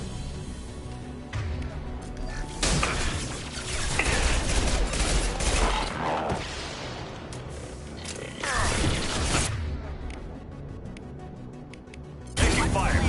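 Gunfire in Mass Effect 2, with bursts of shots and clattering impacts in several loud volleys separated by brief lulls. A voice speaks over part of the combat.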